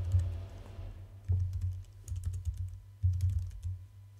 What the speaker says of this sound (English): I'm going to hit return and type in my calculation.